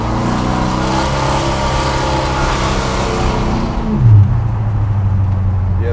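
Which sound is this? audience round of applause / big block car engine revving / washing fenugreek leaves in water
big block car engine revving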